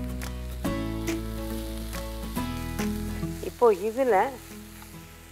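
Chopped vegetables and onion sizzle and fry steadily in a pan, with a few stirring clatters, while someone speaks over the cooking.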